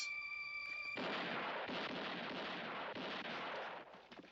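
Gunfire from a Spaghetti Western film, a loud sustained burst of shots and echoing blasts that starts after about a second of quiet tonal music, rolling on for a few seconds before tapering off.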